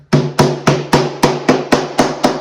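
Nine evenly spaced hammer taps on LifeProof vinyl floor tile, snapping it into place, ring out close and loud, a steady rhythmic knocking with a slight resonant hum between blows.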